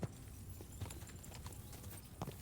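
A horse approaching in Kingdom Come: Deliverance 2, its hooves clip-clopping in a steady run of close, fairly loud hits with a few sharper thuds among them.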